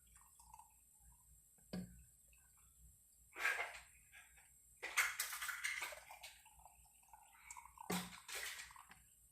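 Homemade elderberry syrup poured through a kitchen strainer, heard as a few short bursts of splashing and dripping liquid separated by quiet pauses, fairly close and faint overall, with no talking.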